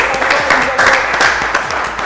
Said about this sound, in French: merci de l'accueillir, de l'applaudir